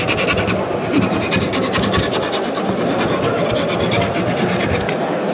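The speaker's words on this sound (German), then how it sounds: "Und nun wird gesägt." A hand saw rasps steadily back and forth through wood, a close, loud, continuous scraping rhythm with no pauses.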